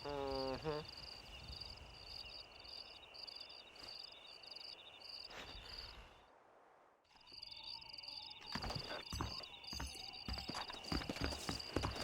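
Rhythmic clip-clop of horse hooves in the video game Red Dead Redemption with a steady chirping of crickets or insects throughout, a brief quiet dip midway, then busier clattering.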